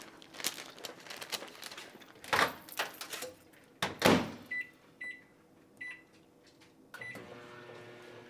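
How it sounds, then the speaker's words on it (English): A microwave oven heats Canadian bacon in a home kitchen, with a steady low hum broken by a door thud, clicks and a few beeps near the end. "And my Canadian bacon in the microwave oven for 30 seconds."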